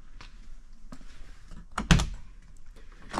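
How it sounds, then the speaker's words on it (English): Heavy front door of a Prevost XL2-45 coach bus swinging open, with faint latch clicks and then one solid, deep thunk as it releases, close by in a quiet setting. "As you walk up and open the door on a Prevost, the first thing that you immediately notice is just how heavy this front door is"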